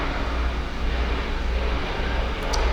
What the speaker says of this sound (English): sorry about the plane going over right now